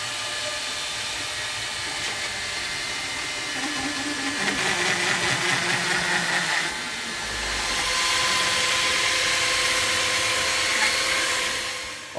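A wooden arrow shaft is sanded to adjust its spine, producing a continuous, fairly loud abrasive whir and hiss that holds steady for about twelve seconds and swells slightly toward the end, with no talking.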